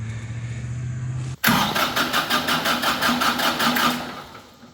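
A tractor engine starts: a low hum cuts out, then the engine cranks and catches, settling into a loud, steady, rhythmic chugging idle that fades slightly toward the end.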